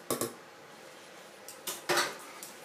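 Dessert batter of sago and corn for Thai tako, mixed in a pot: sharp metallic clinks and scrapes of a utensil against the pot, a few scattered loud knocks with quiet gaps between.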